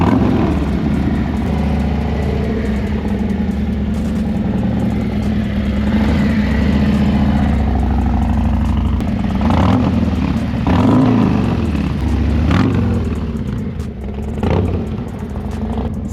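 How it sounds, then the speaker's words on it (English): A 2024 Harley-Davidson Road Glide V-twin with a newly installed exhaust idles with a steady, deep, loping rumble, close and loud, with a few brief throttle blips near the end. "I want to let her warm up a little bit before I crack the throttle"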